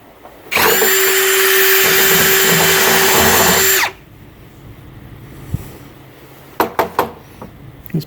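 A drill bores a hole through a sturdy 1/8-inch-thick plastic bucket being made into a crawfish cleaner, giving one loud, steady whine of about three seconds that stops abruptly, followed by a few quiet clicks and knocks.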